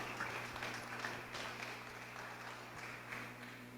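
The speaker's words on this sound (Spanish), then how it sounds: "Así que fuerte el aplauso para la maestra Laura Ayala." An audience applauds a speaker at a museum curation talk, faint and steady clapping heard from a distance under a low background hum.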